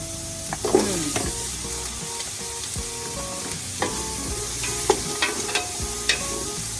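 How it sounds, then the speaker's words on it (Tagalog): Ginger sizzles and fries in a hot pan for chicken tinola, a steady close crackle broken by several sharp clinks and scrapes of a utensil stirring against the metal. "Lapag na rin natin ang ating luya."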